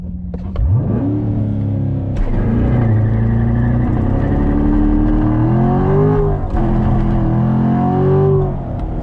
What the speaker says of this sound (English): All I have to do is let the clutch out, and it should launch the car pretty good right here.